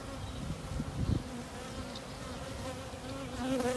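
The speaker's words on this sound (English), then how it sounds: "they have bees coming in and coming out" A constant buzzing of bees around hives, a low droning hum with a few louder passes near the middle and end.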